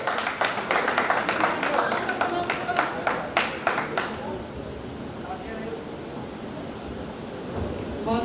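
Loud, dense applause from a poetry-recital audience welcomes a woman poet at a Hindi kavi sammelan in Banaras, a sustained burst of claps for about four seconds that then fades into quiet room hiss and faint murmur.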